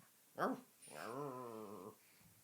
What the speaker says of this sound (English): there's a dog in the room.